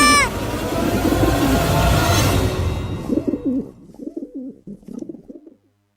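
Soft, rhythmic pigeon coos close by, following a burst of loud, busy noise with whistling tones that fades away.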